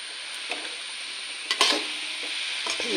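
A spoon stirring thoran, a Kerala vegetable stir-fry made here with milk, in a pot: a steady sizzling hiss with a few soft scraping strokes against the pot.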